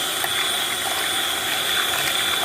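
Whipping cream churned by hand with a geared hand whisk, a steady close whirring, rattling mechanical drone with a faint high whine, continuous and unbroken throughout.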